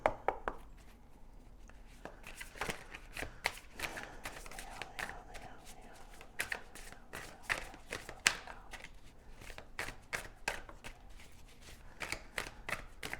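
Tarot cards are shuffled repeatedly up close, with crisp riffling bursts and soft taps in an irregular rhythm, no voices present.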